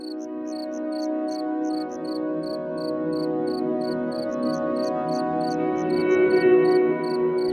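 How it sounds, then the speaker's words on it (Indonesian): Steady night chorus of crickets in a Sumatran rubber plantation village forest, repeated high chirps pulsing in a regular rhythm over a dense, continuous insect and frog-like drone, no voices. "Suara hutan malam, jangkrik bersahutan"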